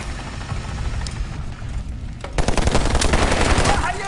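Rapid 7.62 machine gun bursts in the shooter game Medal of Honor Warfighter, a dense rattle of gunfire that grows louder and heavier in the second half, with no talking over it.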